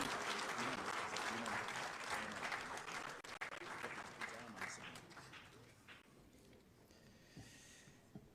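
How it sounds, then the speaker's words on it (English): Applause from an audience at a formal gathering with the royal Otumfuo and President Mahama. Dense, loud clapping fills the first several seconds and fades toward the end, with a faint murmur of voices underneath. "Shall we please give His Royal Majesty another big round of applause?"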